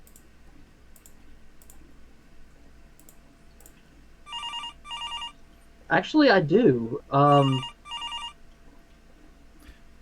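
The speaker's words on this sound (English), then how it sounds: "Is that a phone ringing?" A telephone rings in two short bursts of bright trilling, moderately close, with faint clicking before and a person speaking briefly between the rings.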